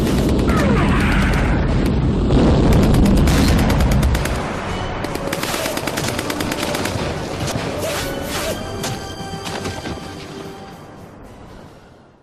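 Artillery firing for effect: a dense barrage of shell launches and explosions, heavy and booming at first, then a continuing scatter of sharp reports and rumbling blasts that slowly fades, with no talk.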